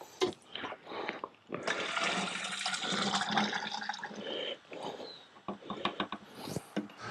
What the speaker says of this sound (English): we'll take the leftover here, pour it into my sprayer